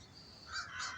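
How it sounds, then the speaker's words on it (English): A raven gives two harsh, croaking caws in quick succession, faint and somewhat distant outdoors. "That's a raven."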